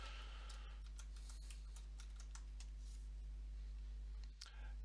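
Keys on a computer keyboard are tapped to enter a date into a form field, a quiet, irregular run of clicks over a steady low electrical hum, with no talking.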